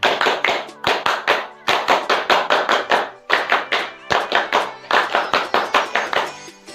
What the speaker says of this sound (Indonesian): 2 kali tepuk pramuka